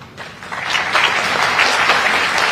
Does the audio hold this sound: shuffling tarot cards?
no